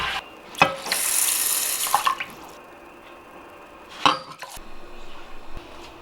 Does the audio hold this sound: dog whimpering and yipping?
no